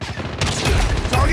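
A grenade explosion in Call of Duty Mobile, a loud, dense burst of booming noise with rapid gunfire crackling through it, close and continuous for a second or so.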